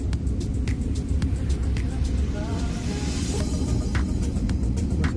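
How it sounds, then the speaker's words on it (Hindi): A car approaches on a quiet village road at night between open fields, woodland and tall reed grass, a steady low engine and tyre rumble that holds throughout, with faint voices nearby. "सामने से गाड़ी आ रही है"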